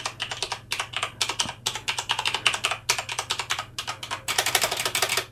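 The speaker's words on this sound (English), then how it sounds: "Oh god, I've been typing." Rapid typing on a Corsair K70 RGB mechanical keyboard with Cherry MX switches, dense bursts of crisp clicky keystrokes with brief pauses, close and loud over a faint low hum.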